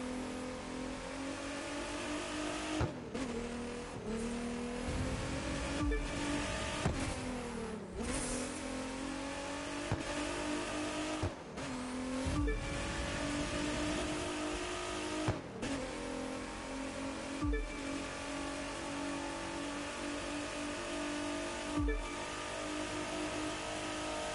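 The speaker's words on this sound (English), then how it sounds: "This car is loud. Like, it's probably like a 3-liter V6." A loud V6 car engine in the video game The Crew 2 revs and drones, rising in pitch through each gear before abrupt shift drops, repeated in a racing rhythm.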